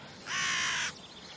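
A crow gives a single harsh, rasping caw lasting over half a second, clear and fairly close against quiet outdoor background.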